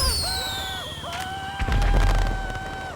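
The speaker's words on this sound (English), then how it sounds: "Want to buy some illegal fireworks and set them off in your neighbour's garden?" Illegal fireworks go off in a neighbour's garden: whistling rockets rise and fall, then sharp cracks and a deep booming burst follow, loud and close.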